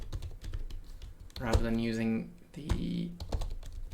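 Rapid keystrokes on a computer keyboard while entering a save command in Stata, a steady patter of close taps that runs under a voice speaking throughout.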